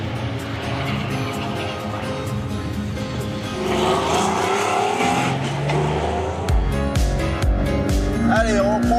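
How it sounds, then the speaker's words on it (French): Porsche Cayman GTS with 365 horsepower on a race circuit, engine note rising and shifting through gears as it accelerates, loud and close, with tire noise and a brief speaking voice. "on va faire parler la poudre avec nos 365 chevaux de ce Cayman GTS"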